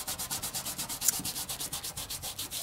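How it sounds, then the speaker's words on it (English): Velvet glitter is burnished onto a double stick sticker in quick, even back-and-forth rubbing strokes, a soft rhythmic scratching close by with no voices. "by burnishing it, what you're doing is brightening the glitter along with setting the glitter onto the double stick sticker"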